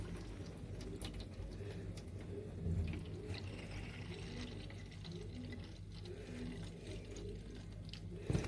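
Washed rice being drained of its rinse water, a steady trickle and splash of liquid running close by, with no talking over it.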